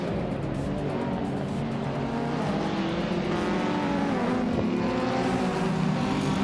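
Race cars in a video game race, running nose to tail in a close battle for position. A dense, continuous roar of engines with tire squeal sounds throughout, steady and loud with no pauses.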